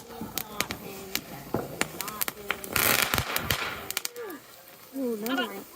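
Fourth of July fireworks burst in a rapid scatter of sharp pops and crackles at close range. Excited voices talk and exclaim throughout.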